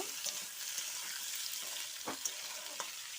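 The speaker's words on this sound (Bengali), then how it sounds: "পেঁয়াজ কুচি আর আলু এটা একটু নাড়াচাড়া করব" Chopped onion and potato stirred in a frying pan for a fish chorchori, soft sizzling with intermittent spatula scrapes and clicks, fairly quiet and without speech.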